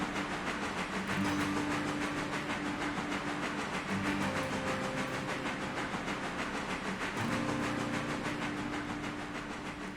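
Train rolling along rails in the Railroader video game at about 40 miles an hour, a steady loud rumble with hiss and faint clickety-clack, a few sustained tonal hums coming and going throughout.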